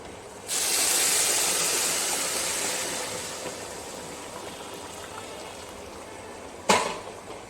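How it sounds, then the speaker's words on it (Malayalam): Boiling water hits a hot pan of mixed fried rice mixture in a sudden loud hiss of steam that slowly fades over several seconds, then a sharp clatter near the end. "നല്ല തിളച്ച വെള്ളമാണ് ഞാൻ ഇതിലേക്ക് ഒഴിച്ചു കൊടുത്തത്"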